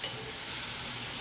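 Mushrooms frying in a pan make a steady, dense hiss of sizzling, close and even throughout the short stretch, with no talking.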